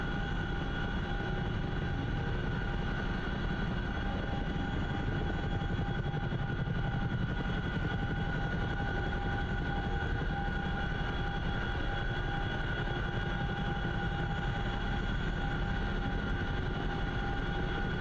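Steady, unbroken aircraft engine drone from a plane in flight in the DCS World flight simulator, a constant loud hum with tonal whine that holds level throughout, no voices.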